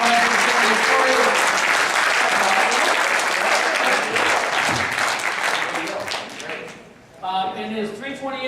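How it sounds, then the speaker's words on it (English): Audience applause fills the room in a long, loud, dense wash of clapping, then thins out and stops, and a voice begins speaking near the end. "let's give these guys another big round of applause"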